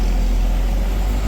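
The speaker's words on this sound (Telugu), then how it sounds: "ఈ లారీ టర్న్ అవుతుంది" A lorry turning on a road near Erumeli on the Sabarimala forest trekking route, heard as a steady, loud, close engine rumble with no talk over it.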